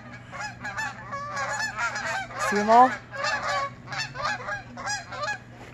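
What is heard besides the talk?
flock of geese honking overhead in fog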